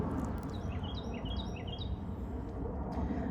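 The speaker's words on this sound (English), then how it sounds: "That bird sound that we hear right now." A songbird sings a series of short, bright chirping phrases over a steady low outdoor rumble, moderately close and clear, on a calm morning.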